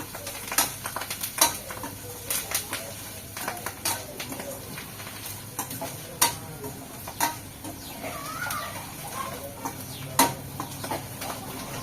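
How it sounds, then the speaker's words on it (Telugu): Puffed rice and turmeric fry in a pan while a spoon stirs, sharp metallic scrapes and clicks recurring irregularly over a soft sizzle, close by; a faint voice is heard briefly. "ఇంకా పసుపు వేసుకున్నాం అయితే మంచిగా ఫ్రై అయిపోవాలన్నమాట"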